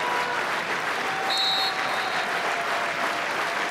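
Finnish fans of RoPS applaud at a football match against Asteras Tripolis, a dense steady wash of clapping from a stadium crowd, moderately loud and continuous, with a brief whistle-like tone in the middle.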